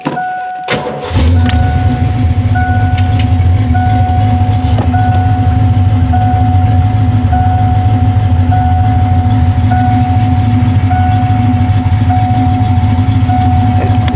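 A Ford Mustang engine starts after a brief key jangle and then idles steadily and loudly up close, a constant low rumble with a faint high whine running through it.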